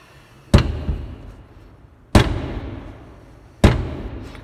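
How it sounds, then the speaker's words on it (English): Three loud, sharp metal-on-metal slams of a heavy metal door, evenly spaced about a second and a half apart, each with a ringing clang that decays slowly, in a reverberant prison setting with no talking. "This is what a metal door slamming sounds like."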